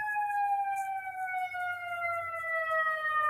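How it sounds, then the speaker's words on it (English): A wailing siren rises and falls steadily, clear and fairly close, with a faint low rumble of traffic underneath and no voices. "Sorry if you hear sirens."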